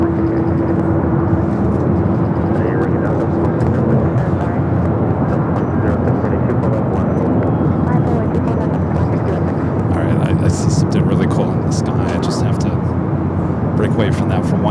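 A Singapore airliner taking off at LAX: a steady, loud jet roar holds throughout, with a broad rushing rumble and a faint whine, under continuous talk.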